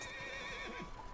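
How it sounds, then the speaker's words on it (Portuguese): A horse whinnies in Red Dead Redemption 2, a drawn-out neigh with wavering harmonics heard over steady game background sound. "O cavalo."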